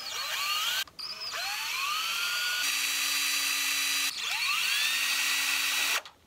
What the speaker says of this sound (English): we're gonna just pre-drill four holes across the top here